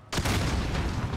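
A grenade goes off in Call of Duty Modern Warfare, a sudden loud, close boom that bursts out of near silence and rumbles on heavily for about a second.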